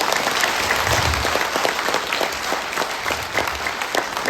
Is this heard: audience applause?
yes